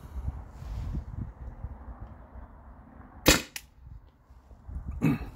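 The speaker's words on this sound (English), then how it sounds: "I'm gonna take a few shots and see what I get on this chrono reading" A modded Byrna TCR launcher running on an HPA tank fires two sharp, loud pneumatic shots several seconds apart through a chronograph, each a brief crack over low background rumble.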